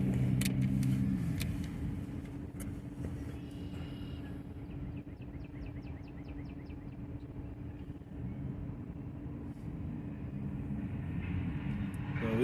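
A Norfolk freight train rumbles steadily with heavy low-frequency roar throughout, a continuous near rolling drone with faint high squeals and clanks, no talking.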